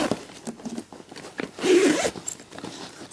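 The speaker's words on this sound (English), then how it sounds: "The bag is secured by a zip." A zip on a red polka dot coral fleece bag is pulled in one quick, close rasping run, with soft handling rustles before and after.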